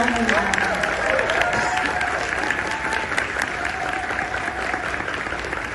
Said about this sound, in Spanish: Pido un aplauso para Reinaldo.